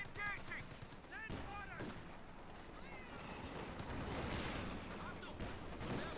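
Rapid gunfire and bursts of machine-gun fire crackle through a World War II tank battle in a video game, with Panzer tanks engaging, thick and continuous under a busy battlefield din with a voice calling out at the start.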